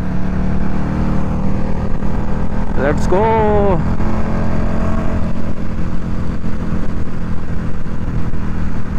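A KTM Super Duke motorcycle rides along a road near Toronto Pearson Airport with a steady, loud engine and wind roar throughout, while a man calls out briefly over it.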